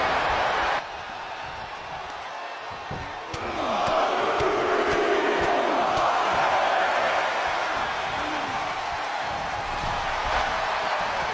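Arena crowd noise from a WWE 2K24 NXT wrestling match, a steady roar that swells louder a few seconds in and holds as fans rally behind a wrestler, with scattered shouts and thumps underneath.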